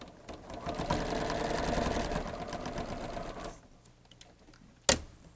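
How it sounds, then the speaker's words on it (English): A sewing machine stitches minky quilt fabric together, a close, rapid mechanical chatter running steadily for several seconds, then stopping, followed by a single sharp click. "you can see right there is where we're going to sew that together"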